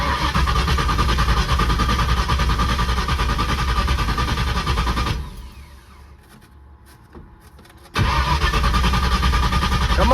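A Fox body car engine roars loudly, then drops to a much quieter rumble for a few seconds before surging back to a strong, steady running sound, all close up with no talking.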